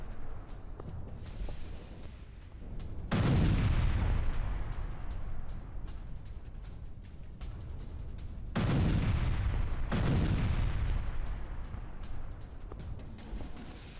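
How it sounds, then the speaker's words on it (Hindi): Two heavy booming blasts from an explosion in a military vehicle in Russia, several seconds apart, each a loud low rumble that slowly fades, with no talking. "रूस में सैन्य वाहन में हुए धमाके की ये तस्वीर आई।"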